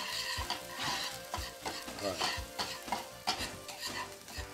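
Tuna sizzles in a frying pan while being stirred, with steady frying hiss broken by repeated scraping and clinking of a utensil against the pan.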